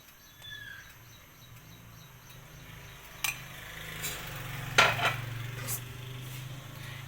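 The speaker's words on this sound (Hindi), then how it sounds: "2-2 मिनट के बाद आपने इसमें चम्मच चलाते रहना है।" A spoon stirs bubbling pakora kadhi in a pot, with faint scraping and a few sharp clinks of metal against the pot, close and otherwise quiet, with no talking.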